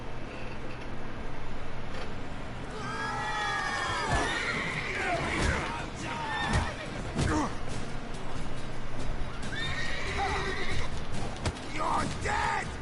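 A horse whinnies loudly twice in The Witcher 3 game amid shouting voices, thuds and scuffling, the neighs rising and falling in long shaky calls.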